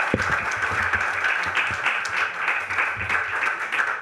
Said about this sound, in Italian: Salutiamo con un applauso Marco Lupis.